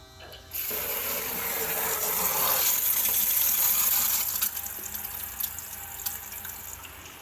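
Water rushes through a homemade garden hose extension pierced with holes. The steady spraying hiss starts abruptly, peaks in the middle and then eases slightly, with scattered faint clicks.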